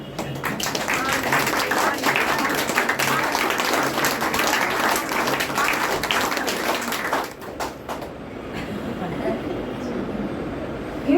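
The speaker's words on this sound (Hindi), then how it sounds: "चलिए क्लैप स्टार्ट" Audience clapping during a Hindi spiritual lesson: steady, dense applause from a group that holds for several seconds, then tapers off into quieter room noise.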